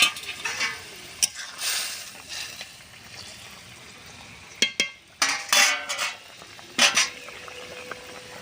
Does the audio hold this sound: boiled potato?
yes